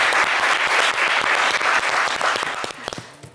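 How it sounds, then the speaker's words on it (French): A game show studio audience applauds, a dense burst of loud clapping that thins into scattered individual claps before fading out. "Allez, on peut vous applaudir hein"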